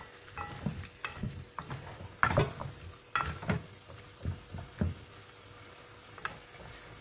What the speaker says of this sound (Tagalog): Kailangan halu-haluin natin yung chicken para matanggal yung mga katas.